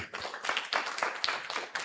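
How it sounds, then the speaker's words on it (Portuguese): Children's class clapping loudly for a round of applause, a dense, steady patter of many hands at close range, with no talk. "Vou dar uma salva de palmas para Jesus. Bem forte."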